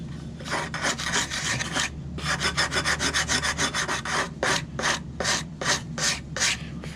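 Hand sanding on a boat build, near and loud: rhythmic back-and-forth rasping strokes, first a long continuous scrub, then quicker even strokes and finally separate bursts, with no talk.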